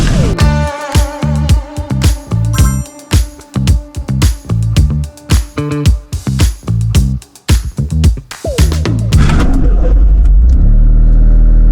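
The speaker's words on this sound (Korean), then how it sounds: "시동을 한번 걸어보겠습니다" A stock-exhaust Toyota GR Corolla, nearly new with barely over 500 miles, cranks and fires up, loud and close, with sharp throttle blips and revving before settling into a steady, rumbling idle.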